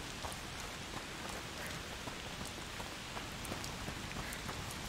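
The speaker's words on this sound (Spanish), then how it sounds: "Cómo está lloviendo, ¿eh?" Rain pours down in A Plague Tale: Requiem, an even, dense wash of falling water with scattered droplet ticks, steady and unbroken without any voices.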